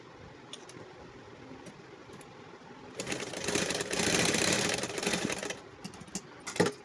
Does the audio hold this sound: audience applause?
no